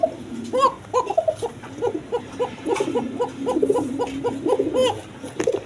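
Pigeons cooing, with male and female calls mixed, repeated rhythmic coos close by, overlapping in a steady series under low background sound.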